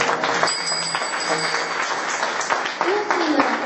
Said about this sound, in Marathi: एकदा प्रेमाने सर्वांनी गायकांसाठी एकदा टाळ्या वाजवा